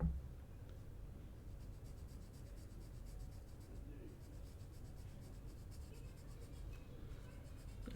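A pencil scratches quick hatch marks across paper while sketching a Spider-Man signature drawing, a soft, close, rhythmic scraping that continues steadily throughout.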